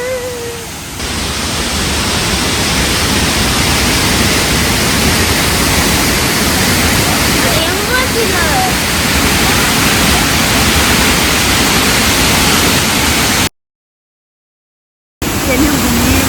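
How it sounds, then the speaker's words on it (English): Krang Suri waterfall in Meghalaya roars as a loud, steady broadband rush that fills the scene continuously, broken only by a brief dropout near the end; a voice can be heard faintly over the torrent. "This is the most beautiful waterfall ever."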